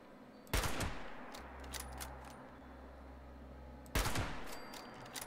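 Rifle shots in the video game Fallout 76: two sharp, loud reports spaced about three seconds apart, with a low rumbling hum and faint ambience between them.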